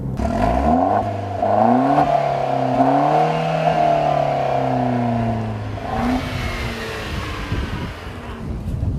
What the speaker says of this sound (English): That is an actual Borla exhaust, and it is part of an option for this car